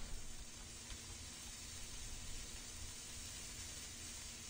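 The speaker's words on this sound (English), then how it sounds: "Bacon cooks up really fast." Bacon frying on a griddle in the video game Citizen Burger Disorder, a steady broadband sizzle and hiss that runs unbroken and fairly quiet throughout, with no talking over it.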